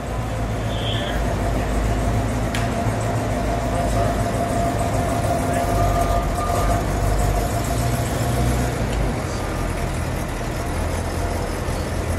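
The never-restored 1967 Chevrolet SS427 sits idling with a loud, steady, low engine rumble that holds evenly for about twelve seconds, with faint voices underneath.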